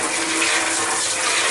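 Water rushes loudly and steadily as it rinses out a Maxant honey extractor after a bleach-water cleaning, a continuous broadband splashing gush with no voices over it.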